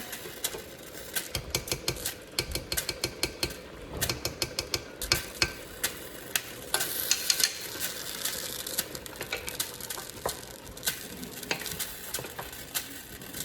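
Oxtail seasonings with thyme, ketchup and chopped habanero being mixed together, heard as rapid rhythmic clicking and tapping of a utensil against a bowl in quick bursts, with moist squelching between and no speech.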